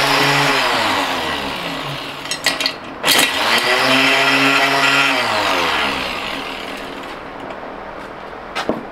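A motorized grinder crushing quartz vein rock samples whines loudly up close, its motor pitch dropping and rising again, with sharp knocks and rattles of rock striking it.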